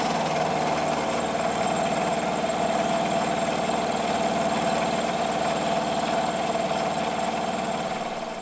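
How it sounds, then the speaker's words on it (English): A milling machine cuts a steam engine part held in a vise, giving a continuous loud mechanical whir and grinding drone with no pauses. "the material was removed down to final dimension"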